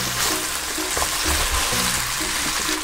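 Bacon sizzles and fries in olive oil in a pan for creamy soba pasta, a steady close crackle with a few soft stirring knocks.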